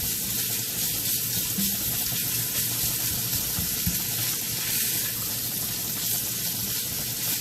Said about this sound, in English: I've taken some bacon grease and I put my ham in here to saute